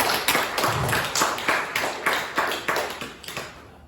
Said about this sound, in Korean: 우리 하나님의 영광의 박수 한번 드리겠습니다